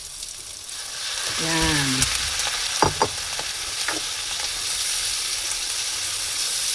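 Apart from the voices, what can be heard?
boiled pork trotters sizzling as they are added to the pan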